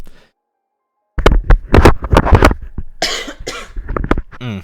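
A short silence, then a burst of several harsh, close coughs in quick succession, followed by rougher throaty hacking and breathy sounds.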